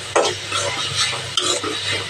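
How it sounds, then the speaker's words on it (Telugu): Urad dal chutney mixture being stirred in a pan, with a spoon scraping and clinking against the metal in two sharp strokes over soft sizzling and a low hum. "వేసి ఒకసారి బాగా మిక్స్ చేయండి"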